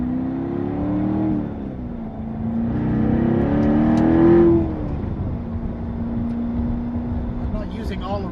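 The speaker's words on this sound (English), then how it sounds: "As you can hear, a little throatier note to the exhaust." A 2014 Chevrolet Corvette Stingray Z51 accelerates from inside the cabin, its throaty exhaust rising in pitch through the revs and dropping at a shift, then settling into a steady drone, with someone talking over it.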